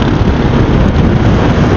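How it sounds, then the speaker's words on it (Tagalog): Strong wind buffets the microphone on a long motorcycle ride on a Honda Click 125i, giving a loud, constant roar that covers everything. "So dito lakas ng hangin"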